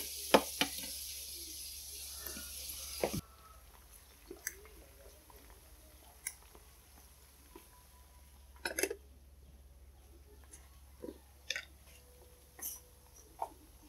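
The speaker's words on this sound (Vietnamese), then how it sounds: "Mình sẽ chiên cho nó vàng cái mấy cái cọng nấm bào ngư này nè." Oyster mushroom stems fry in a pan after lemongrass, ginger, garlic and chili for a vegetarian dish, making a faint sizzle with a brief louder burst at the start, then sparse stirring clicks and scrapes.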